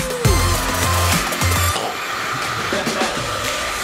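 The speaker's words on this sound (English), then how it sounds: "And then you guessed it, hair dryer." A hair dryer blows with a steady, close airy roar that holds throughout, while a few short thumps and clatters sound early on.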